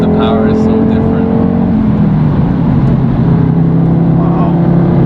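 A 2013 Audi TT RS five-cylinder engine accelerating hard, a loud continuous drone steadily rising in pitch, heard close from inside the car with some talk underneath.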